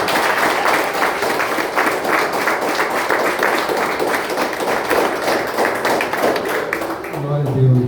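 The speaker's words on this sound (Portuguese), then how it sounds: "Receba os aplausos da tua igreja" A church congregation at a Presbyterian Renewed service applauds in praise of Jesus, a loud mass of rhythmic clapping close by that carries on steadily, then thins toward the end as a low tone and voices come in.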